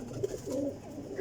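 Teddy Kasuri pigeon cooing close by, a soft continuous throaty coo running through the whole moment with no talk over it.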